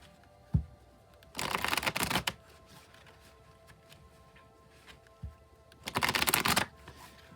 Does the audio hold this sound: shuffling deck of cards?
yes